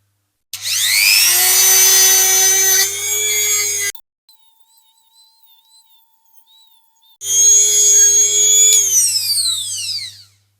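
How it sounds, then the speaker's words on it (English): A rotary tool polishes the wheels of a Dinky Plymouth Plaza diecast model car, whining loudly in two bursts of about three seconds each, separated by a short quiet pause. "So what I want to do with these wheels is just try and give them a quick polish."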